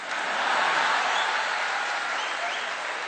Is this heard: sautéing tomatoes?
no